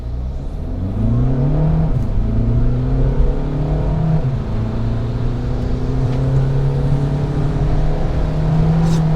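A Skoda diesel car with a DSG gearbox accelerates hard, its engine note rising steadily through the gears with brief dips at each shift, a continuous loud drone with turbo lag before it pulls.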